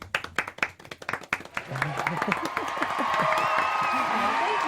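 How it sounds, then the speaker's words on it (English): Studio audience applause at a TV review and reaction show, starting as scattered separate claps that quickly build into dense, steady clapping with some cheering, fairly close. "Let's have a round of applause for Ivanna"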